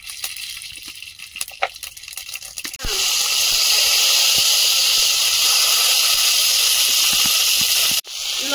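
Halved dried chillies and whole mustard seeds go into hot oil in a kadai. After a few light clatters comes a sudden loud, steady, close sizzle that holds for several seconds, broken by one brief dip near the end.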